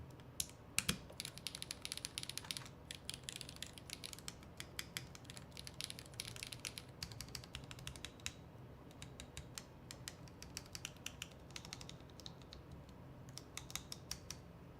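Rapid clacky keystrokes on a partly built mechanical keyboard with film-lubed switches, a fast irregular patter of clicks, fairly quiet and close, with no voices.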